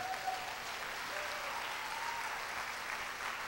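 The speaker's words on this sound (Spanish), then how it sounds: "¿Qué les parece si le damos un aplauso al que vive para siempre?" Church congregation applauding during a service, a steady, fairly soft wash of many hands clapping with a faint tone lingering beneath.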